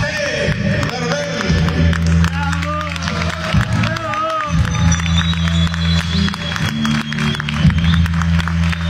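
A live concert audience applauds and cheers a singer. Dense clapping and crowd noise run through the whole stretch, with a loud musical or amplified low drone underneath and voices mixed in.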